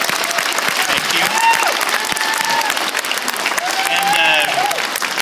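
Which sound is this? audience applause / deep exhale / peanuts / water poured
audience applause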